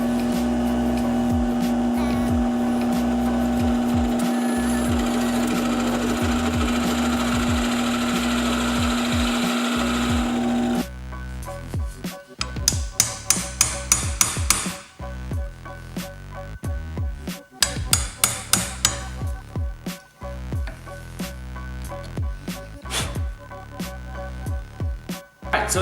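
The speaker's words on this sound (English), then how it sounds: "drill straight down into here with the Forstner bit." Wood being cut and drilled for a docking station, first a long steady rasp with a sustained tonal whine, then a series of sharp bursts of a power tool biting into the wood, loud and close.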